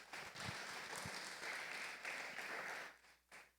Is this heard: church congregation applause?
yes